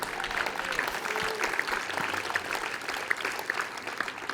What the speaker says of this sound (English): Maybe that deserves a hand clap.